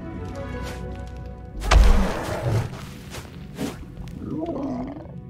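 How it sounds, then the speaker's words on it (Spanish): A dragon in the Fire Realm of a DreamWorks Dragons video game lets out a deep, growling roar that swells and fades, followed by a softer rumbling growl over ambient game sound. "En cuanto Trueno llega a un sitio, el rugido empieza a sonar desde otro sitio."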